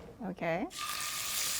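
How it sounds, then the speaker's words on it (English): Big scallops searing in a hot pan at a farmer's market cooking demo, a steady broadband sizzle rising abruptly after a brief spoken word and holding loud and even to the end. "That sizzling sound."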